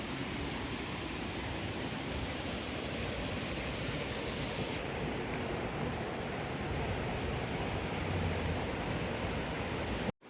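Water rushes steadily over a dam, a loud, continuous broadband roar that holds constant from start to finish, heard alone with no talking.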